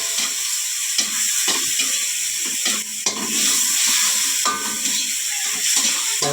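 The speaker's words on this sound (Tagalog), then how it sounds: "Ikakaramize natin yung onion." Onion caramelizes while frying in a pan for ginisang monggo, a close steady sizzle broken by repeated scraping stirs of a utensil.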